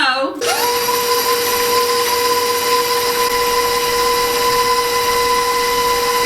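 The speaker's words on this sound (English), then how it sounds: "with my paddle attachment, I am going to mix together the butter and the cream cheese" A stand mixer with its paddle attachment creams butter and cream cheese, spinning up quickly into a loud, steady, whining motor hum that runs unbroken to the end.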